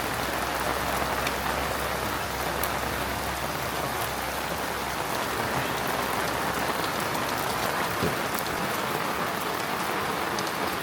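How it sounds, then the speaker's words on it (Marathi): Heavy monsoon rain pours outside a Swami Samartha math in Konkan, a dense, steady roar of drops drumming on surfaces, loud and unbroken throughout, with no voices. "बाहेर खूप पाऊस चालू आहे"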